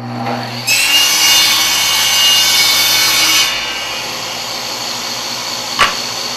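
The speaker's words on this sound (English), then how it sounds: "I'm going to go ahead and cut the other pieces." A power saw cuts wood pieces in a workshop, a loud rasping buzz lasting about three seconds before the blade winds down to a lower hum, followed by a brief sharp knock.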